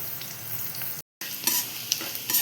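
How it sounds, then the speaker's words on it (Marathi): Sliced onion fries with bay leaf, cinnamon pieces and curry leaves in a pan, giving a close, busy sizzle with scraping stirs and a brief silent break partway, then louder stirring clatters resuming. "कांदा गुलाबी होईपर्यंत छान त्याला परतून घेतोय"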